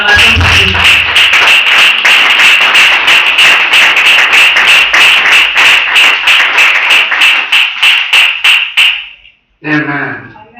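A church congregation claps together in a steady, loud rhythm that runs for about nine seconds before breaking off, and a voice speaks briefly at the end.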